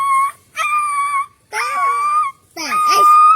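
A person imitates a dog vocally, making four close, loud calls in a row that sound like a dog's whimpering howls and yelps. Each call is separated by a short pause.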